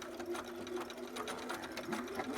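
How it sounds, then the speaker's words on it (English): Sewing machine running a back stitch on newborn prop pants, a steady close mechanical whir with rapid needle clatter, continuous throughout with a faint voice underneath. "do a little back stitch here, and then just bigger than that"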